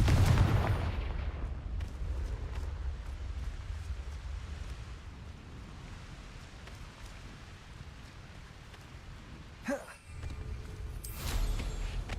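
A Confringo blasting spell explodes in Hogwarts Legacy, with a loud booming burst at the start, then a long rumbling, crackling decay and a few sharp later impacts over steady background noise.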